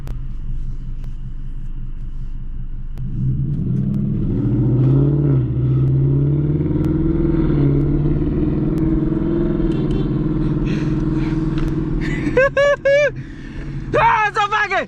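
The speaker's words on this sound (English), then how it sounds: "it's a fucking Mustang!" A Ford Mustang's engine rumbles loud and steady at close range and builds in revs, while people whoop and shout over it near the end.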